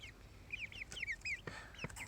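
Young chicks cluck and peep in a shaded yard on the summer solstice, with a run of short, bright, rising-and-falling calls close by and soft irregular knocks between them.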